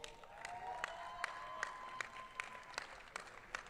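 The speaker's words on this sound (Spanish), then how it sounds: "para las que pido un fuerte aplauso" Crowd applause at a Premier Padel Major tournament center court in Mexico, fairly faint and distant, with distinct individual claps popping out at a regular rhythm over a thin wash of clapping and a faint tonal hum.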